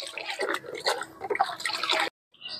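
Water in a container, about two litres, is stirred with a mug, giving close sloshing and dripping splashes for about two seconds before the sound cuts to near silence.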